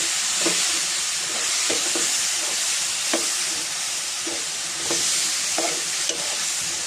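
Water poured onto a sugar-sweetened spice paste frying for Bengali fish curry sets off a loud, steady steaming hiss and sizzle, punctuated by regular scraping strokes of a spoon in the pan.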